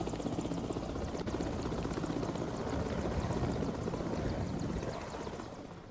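A helicopter carrying polling teams to voting stations in a sensitive Naxal-affected area in Madhya Pradesh drones continuously with a dense, steady rotor chop, loud and close throughout and easing slightly at the end, with no voices.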